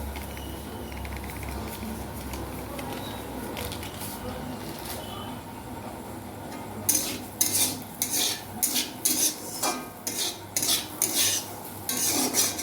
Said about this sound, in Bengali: এইভাবে আমি কিছুটা সময় ভেজে নেব তাহলে আমি আরও একটু সুজি অ্যাড করবো